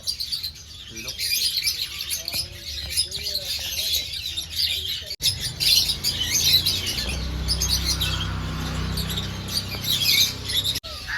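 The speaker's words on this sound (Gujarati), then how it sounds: "આ લવ બર્ડ રંગબેરંગી છે" Colorful lovebirds at Kankaria Zoo in Ahmedabad chirp in a dense, steady chatter of high tweets with some lower background noise, loud and close throughout.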